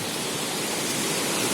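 Rushing water at the Rani Dah waterfall in Jashpur, Chhattisgarh, swollen by monsoon rain, a dense continuous roar that stays steady and loud throughout with no voices.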